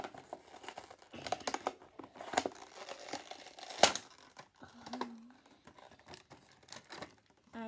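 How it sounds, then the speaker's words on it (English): Funko Racer plastic packaging ripped open by hand, close crinkling and tearing with irregular crackles and one sharp snap midway, fairly quiet and with no talking. "All I do is I rip it open."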